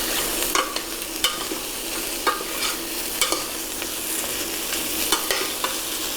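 Chopped garlic clove stirred in a hot pan at the start of a chicken stock, a soft continuous sizzle broken by occasional scraping clicks of the utensil, close and with no talking.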